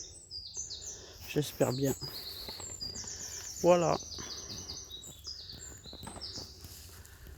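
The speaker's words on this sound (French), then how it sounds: "J'espère que vous entendez les oiseaux." Birds sing in a garden with fruit bushes: repeated high chirps and whistled phrases throughout, a few louder trilling calls nearby, while a person speaks briefly in French.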